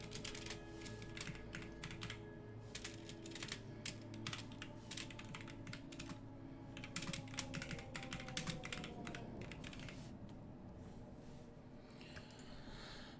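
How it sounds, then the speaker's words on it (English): Quiet typing on a computer keyboard in a tabletop role-playing session, with irregular bursts of soft clicks and clacks that pause briefly before resuming, close and faint. "Can you hear me typing?"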